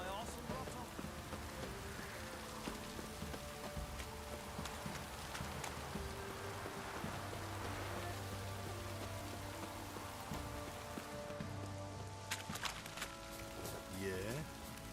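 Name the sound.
rain falling in The Witcher 3 video game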